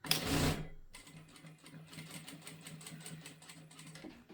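A Jack A4E industrial sewing machine stitches through two layers of lightweight shirt fabric, giving a soft, rapid, even chatter. A brief louder knock comes just before the stitching starts.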